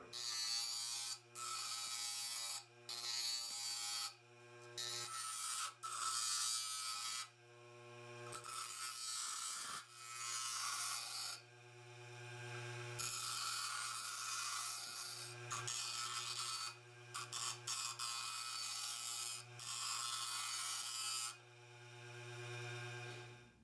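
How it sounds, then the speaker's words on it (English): A grinder shapes a steel blank cut from an old hand saw blade into a card scraper. A steady droning hum with a buzzing edge starts and stops repeatedly in short and long runs. "I'm going to stop, take a minute, sit it down, wait for it to cool down, and then go back to the grinder"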